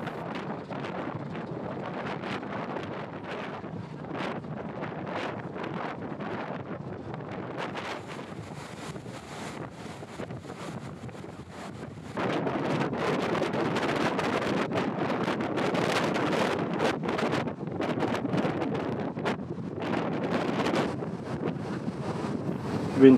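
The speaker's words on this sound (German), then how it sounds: "Wind gibt es hier wirklich genug." Strong wind buffets the microphone aboard a fast ferry on the Elbe, a constant roar over rushing water that grows louder and harsher about halfway through, with no voices.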